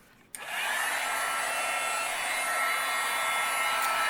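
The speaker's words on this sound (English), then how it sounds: "We'll grab our heat gun and we'll melt all this embossing powder." Heat gun switched on to melt embossing powder for card making, a steady close blowing hiss and fan whir starting abruptly and running continuously.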